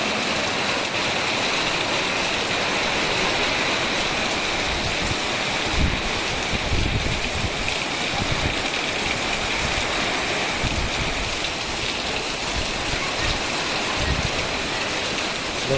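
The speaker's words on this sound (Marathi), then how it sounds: "जोरात पाऊस चालू झालेलो" Heavy first monsoon downpour drums steadily on a tiled-roof house in a Konkan village in Ratnagiri district, a dense unbroken hiss of rain close by, with occasional heavier splashes of water running off the roof.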